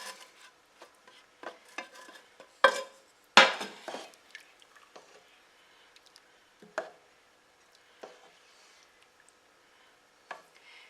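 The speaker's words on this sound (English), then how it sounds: "Now I'm going to add in the hamburger and the beans." Hamburger and beans are tipped into a simmering pot of pasta fagioli, with scattered close clinks and scrapes of a spoon against the pot, a few louder knocks, and soft stirring between them.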